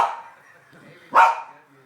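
Two sharp, high puppy yelps nearby, one at the start and a louder one a second later, with quiet between.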